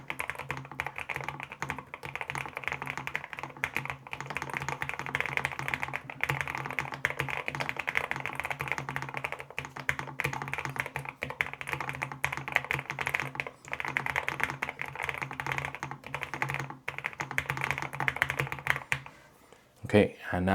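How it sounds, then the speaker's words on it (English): Rapid, continuous clacking of keys on a NuPhy Kick75 mechanical keyboard, close and crisp, with a brief pause near the end before a few final strokes. "So let's begin with a quick typing test."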